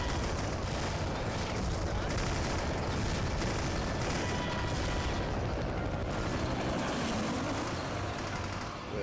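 Rocket-propelled grenade fire and explosions in the VietDoom Doom total conversion game, a dense, continuous barrage of booming blasts and gunfire filling the scene.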